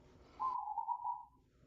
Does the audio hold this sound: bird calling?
yes